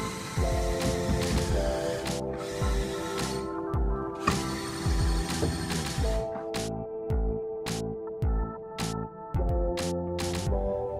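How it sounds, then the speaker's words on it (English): Wood being ripped on a bandsaw: a steady mechanical hum with layered tones runs throughout, overlaid by rhythmic rasping bursts of blade cutting and sharp repeated clicks toward the end, loud and close. "I'm going to start ripping it on the bandsaw."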